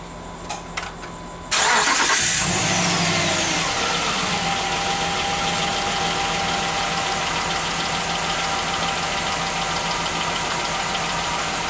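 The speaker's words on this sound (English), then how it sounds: "We'll fire it up and see what it sounds like." A Jeep Grand Cherokee HEMI engine cranks and catches after a couple of clicks, then settles into a steady, close idle that runs on without talking.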